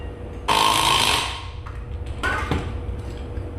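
A hole saw cuts through a metal wheel spacer bolted to a Willys CJ-2A Jeep wheel in two brief bursts: a loud, harsh, grinding whine lasting about a second, then a shorter, weaker one, with a quiet pause between them.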